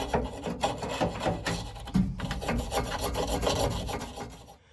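Wire brush scrubbing a greasy window regulator from a 1973-79 Ford truck, a steady rasping, scratching rhythm of quick strokes heard close up and alone.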